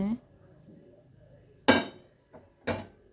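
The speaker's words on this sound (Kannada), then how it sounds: "ತವೆ ಇಟ್ಬಿಟ್ಟು ಸೊ ಲೈಟರಿಂದ ಗ್ಯಾಸ್ ಸ್ಟವ್ ಹಚ್ಚಿಬಿಟ್ಟು" A metal tawa griddle is set down on a gas stove for cucumber avalakki dosa, producing two loud, close metallic clanks and a softer knock between them after a brief voice at the start.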